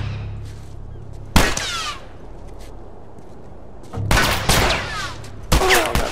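Gunfire in The Last of Us Remastered on Grounded difficulty during the Quarantine Zone stage: three separate loud bursts of shots, the last two close together, over a low steady game hum, with no talking.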